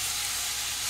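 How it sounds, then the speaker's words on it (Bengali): Rinse water from spice bowls hitting a hot pan while cooking Bengali doi potol, giving a steady, loud sizzling hiss that holds unbroken for just under a second. "মশলার বাটিগুলো ধুয়ে একটু জল দিয়ে দেবো"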